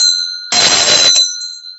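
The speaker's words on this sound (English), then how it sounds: "that inspires me to ring the bell" A bell rung once during a live streamed chat, a bright ringing tone with a sustained ring that fades out.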